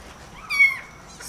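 A single clear meow from a tiny eight-day-old kitten rises and falls in pitch, close and fairly loud, over a quiet background.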